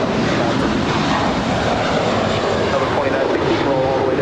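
A Delta Airbus A321 airliner taking off at Los Angeles International Airport, a loud, constant jet roar filling the whole clip, with people talking over it.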